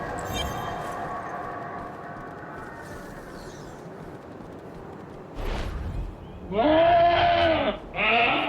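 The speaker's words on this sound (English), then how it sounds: "Make these goats bleat their last." Goats bleat in the Diablo Immortal video game, two loud, wavering calls near the end following a steady rumbling in-game ambience and a brief burst of noise.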